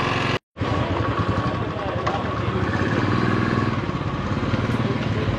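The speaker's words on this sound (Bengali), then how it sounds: "Finally bike start." A motorcycle engine runs steadily after starting on a cold day in South Sikkim, loud and close with a continuous idling rumble after a brief cut near the start; a voice talks over it.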